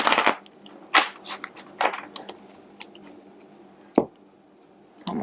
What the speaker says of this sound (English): One more shuffle and then I'll split the deck.